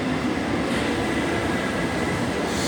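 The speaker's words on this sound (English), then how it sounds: "so our metro is arriving," A Paris metro train pulls into the underground platform, a dense continuous rumble and roar of wheels and motors filling the station, loud and close with no voices.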